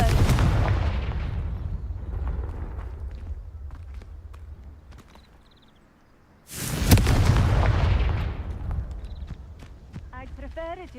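A Confringo fire spell cast in the Hogwarts Legacy video game, heard as a loud booming burst that decays into a rumble, with a second strong blast around the middle and speech present in the game.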